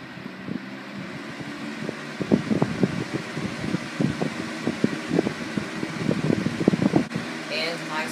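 Steady whooshing airflow of a Lasko 3733 20-inch box fan running on medium, a constant moderate hum with irregular rustling and thumping bursts on top, ending in a brief pause.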